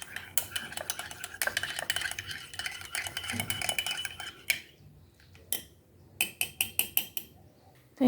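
A spoon clinking and stirring mixed instant coffee in a cup, rapid bright metallic taps in bursts that pause and resume, then a final run of separate clinks, up close and otherwise quiet.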